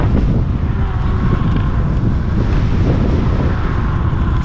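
Strong outdoor wind buffets the microphone during a scooter ride, a loud, constant low rumble and roar with no speech.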